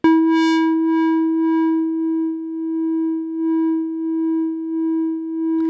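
A sustained synthesizer tone from Ableton Live holds one steady pitch, its brighter overtones swelling and fading in a slow wobble as a filter sweeps, then cuts off abruptly.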